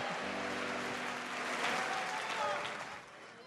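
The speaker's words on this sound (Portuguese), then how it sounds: "Se é para Jesus, pode aplaudir mais forte." A church congregation applauds together, a steady wash of clapping filling the space, with voices and a murmur of crowd sound mixed in throughout.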